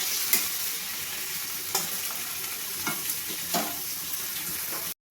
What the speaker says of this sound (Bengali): কাঁচা লঙ্কা এগুলোকে ভালো করে আমি ভেজে নেব।